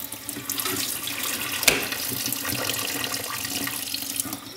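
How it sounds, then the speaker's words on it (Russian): Cold water runs steadily from a tap close by in a thin stream, a continuous splashing with one brief louder splash partway through. "включаем самую холодную воду, можно тоненькой струечкой"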